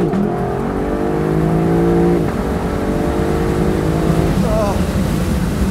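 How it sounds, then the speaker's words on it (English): A 2024 Lexus LC500's engine revs loudly and close, its pitch climbing and settling in repeated surges, with voices talking over it. "It's just the most charismatic engine on sale"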